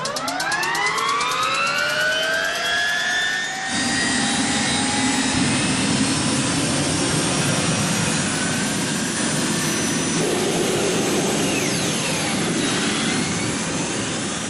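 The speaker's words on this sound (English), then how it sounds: "But the Y2K makes a sound signature unlike anything else on wheels." A Y2K turbine-powered motorcycle's jet engine gives a loud, continuous whine and roar with rising pitch sweeps at the start, then a steady, dense high-pitched turbine scream that holds for the rest of the clip.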